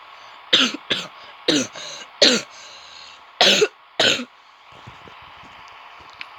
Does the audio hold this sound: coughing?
yes